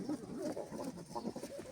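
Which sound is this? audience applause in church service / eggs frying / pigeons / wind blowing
pigeons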